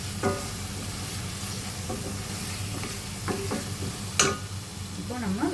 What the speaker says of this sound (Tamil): இன்னும் ஒரு 5 நிமிஷம் வதக்கிக்கோங்க.